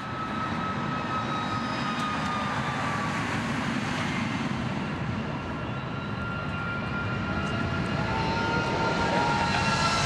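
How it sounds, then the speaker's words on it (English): A Boeing 737 MAX on its first takeoff: a steady, loud jet roar with a broad rushing hiss and faint whining tones, rising slightly toward the end as the engine powers up. "let's just take a listen as this airplane gets ready for its very first takeoff"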